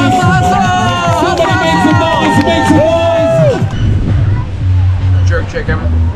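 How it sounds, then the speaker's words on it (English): Guests at an all-inclusive resort in Montego Bay, Jamaica, shout and cheer during a race, a loud, continuous crowd noise of overlapping excited voices that drops away near the end into quieter ambient chatter. "Come on, cheer him on, Ayo!"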